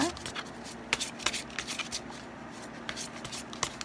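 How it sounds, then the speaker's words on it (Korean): Tarot cards shuffled by hand, quiet riffling flutters and soft snaps repeating irregularly, close up, with a voice talking softly over them. "조금 더 카드를 뽑아보도록 하죠."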